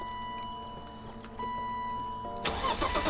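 BMW E36 M3 cranking after sitting neglected, with a faint starter whir and steady background hum before the engine suddenly catches near the end and fires up loud and close.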